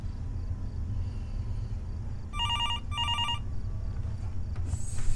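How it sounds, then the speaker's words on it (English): Telephone bell ringing in the horror game Fears to Fathom: Norwood Hitchhike, two short bursts of electronic trilling over a low ambient rumble, loud and close. "Phone ringing?"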